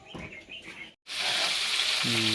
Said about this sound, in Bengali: আপনারা দেখছেন যে আমাদের রোস্টগুলো সুন্দর করে ভেজে নিচ্ছেন তেলে দিয়ে